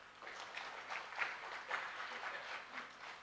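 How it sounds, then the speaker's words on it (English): Audience at a diversity conference applauding after a presentation, a soft, distant patter of clapping that rises and falls gently across the whole stretch. "Let's have a big round of applause for her."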